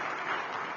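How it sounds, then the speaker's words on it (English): A round of applause from an audience at a Nigerian governance and democracy forum, a steady even wash of clapping heard alone for under a second. "For that, just give him a round of applause."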